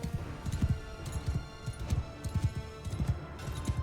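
Horses gallop in the Mount & Blade II Bannerlord video game, a continuous rapid drumming of hooves in uneven clustered beats over battle ambience, moderately loud and steady throughout.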